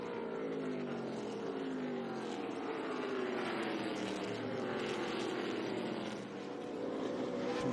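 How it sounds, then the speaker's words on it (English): ARCA Menards Series West race cars run nose to tail down the front stretch at Kern County Raceway Park, their engines a sustained roar with rising and falling pitch, heard from a distance and without talk. "Two Bob Brancati Racing teammates running nose to tail off of turn 4 down the front stretch"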